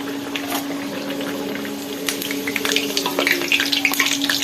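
Luchi puffed flatbread frying in hot oil, a steady bubbling sizzle with a constant hum beneath and scattered crackles growing busier toward the end, no speech.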